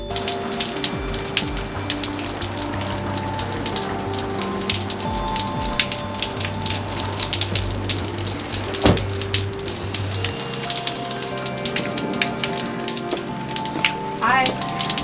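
Steady rain falling and pattering on surfaces in Las Vegas, loud and continuous for the whole stretch, with some dripping and faint background noise.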